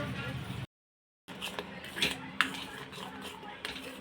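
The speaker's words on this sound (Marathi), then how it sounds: "आता एक छान आपल्याला मिक्स करून घ्यायचं आणि दोन तीन मिनिटं शिजवून घ्यायचं आहे" A spoon stirs malai pedha mixture made with milk powder in a pan, giving light metallic clinks and scrapes with a brief silent gap and a sharper clink near the end.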